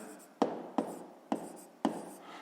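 Pen writing out a solution on paper for a sixth-grade maths exercise, four evenly spaced tapping strokes with faint scratching between them, close up and quiet.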